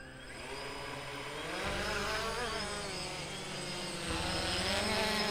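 A DJI Phantom 1 quadcopter carrying an Osmo Action camera hovers and flies nearby with a loud, steady propeller whine whose pitch shifts slightly as it manoeuvres.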